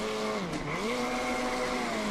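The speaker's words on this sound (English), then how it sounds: "you can see the car just trying to wheel spin out of every corner" Race car engine in the iRacing video game wails at high revs as the tires spin and squeal out of a corner, a loud, continuous tone that dips briefly then climbs and holds steady.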